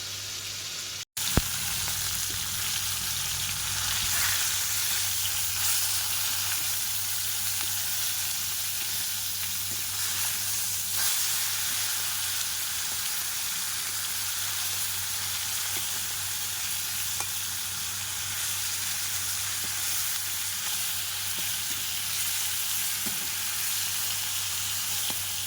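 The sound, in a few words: fish frying in a pan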